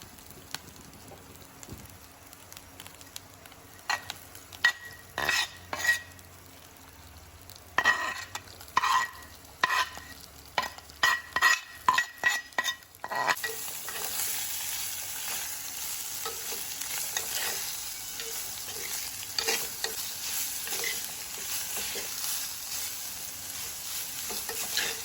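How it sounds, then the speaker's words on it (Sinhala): Fish cutlet filling is stirred in a pan, first with a series of scraping clatters of a spoon, then giving way to a steady loud sizzle of frying that continues to the end. "ඒ ටික චුට්ටක් හොඳට බැද ගන්න ඕනේ."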